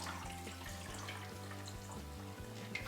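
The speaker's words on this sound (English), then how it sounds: "And I'm just going to put some filtered water on top of that." Filtered water poured into a blender in a kitchen while making a smoothie, a steady close splashing gurgle that runs the whole time without talking.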